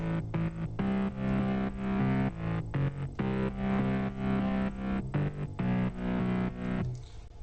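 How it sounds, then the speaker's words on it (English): A thick, buzzy layered future bass synth plays a choppy rhythmic pattern with short gaps, loud and alone, ending in a fading tail. "Bass, also a lot of layers together."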